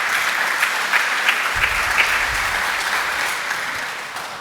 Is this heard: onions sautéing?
no